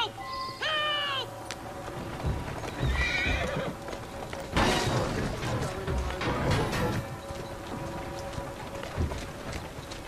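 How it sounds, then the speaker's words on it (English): A horse in Assassin's Creed Syndicate neighs sharply, then its hooves clip-clop in a steady gallop over a wet street in light rain, close and loud, with a short snort midway and no talking. "Who's a good horse? You are."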